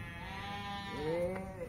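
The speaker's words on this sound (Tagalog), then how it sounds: "Ang pinakawala ng mga tupa. Mga gutom na gutom." A sheep bleats once with a wavering, drawn-out cry, fairly close, over a steady low rumble of background noise.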